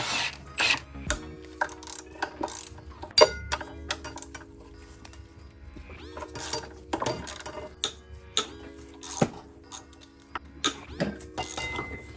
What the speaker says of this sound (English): with this flexible ratcheting wrench, I'm able to get it off. I'm now removing the caliper on this side